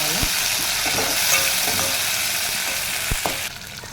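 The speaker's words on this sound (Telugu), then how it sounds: "ఇవి ఒకసారి బాగా అన్నీ కూడా ఫ్రై అవ్వాలి." Green chillies, curry leaves and coriander frying in oil: a loud, steady hiss of sizzling close up, with a couple of sharp spatula knocks against the pan and the sizzle shifting near the end; no voices.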